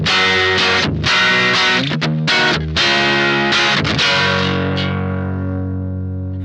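Electric guitar on the neck pickup run through an Electric Love pedal with its tone set to the middle, playing loud distorted, effects-heavy chords and riffs with a few short breaks, ending on a long ringing chord that slowly fades.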